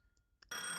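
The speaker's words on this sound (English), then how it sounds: "The phone kept ringing." A telephone rings loud and close, cutting in abruptly after a couple of faint brief tones and holding a bright, sustained ring.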